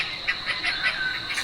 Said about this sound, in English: There's so many birds here,